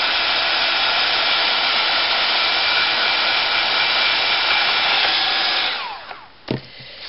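A hair dryer blows steadily at close range over an embossed butterfly craft piece, a loud continuous whooshing roar that holds for about six seconds before switching off, leaving a few faint handling clicks.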